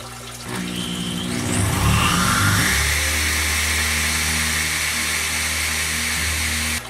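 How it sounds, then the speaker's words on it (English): A power drill bores a hole into a ceiling, starting with a rising whine that settles into a steady, loud, continuous grinding drone lasting several seconds before stopping. "next I'm going to go ahead and drill the hole for the next one"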